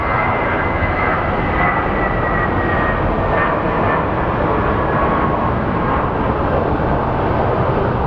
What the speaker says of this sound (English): that plane is a 737 that's flying to Boston from San Diego